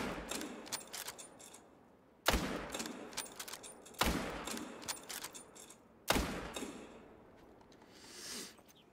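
Several .308 rifle shots ring out during a kangaroo hunt in Australia, four loud sharp reports a couple of seconds apart, each trailing off in a long echoing decay outdoors.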